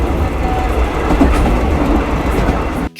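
Train rolling along the tracks with a loud, steady rumble and faint clickety-clack, close by and continuous before cutting off abruptly at the end.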